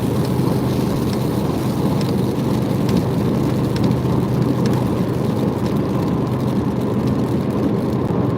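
Rain drums steadily on a car windshield during driving, a continuous close hiss over the low rumble of the road and engine, with no talking.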